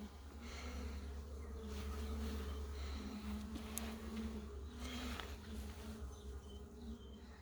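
Honey bees buzz steadily and close at the hive while a queen is being marked, a dense continuous drone with no talk over it.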